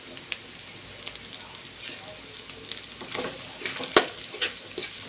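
Curry leaves frying in a pan of oil while making egg fry give a steady, moderate crackling sizzle with scattered pops, and one sharper burst near the end.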